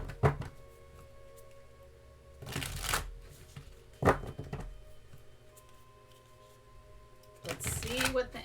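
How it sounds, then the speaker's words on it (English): Animal oracle cards are shuffled in bursts of riffling and flapping, close and fairly loud, with several separate shuffles spread across the stretch and quiet handling noise between them. "I'm going to pull a animal oracle card"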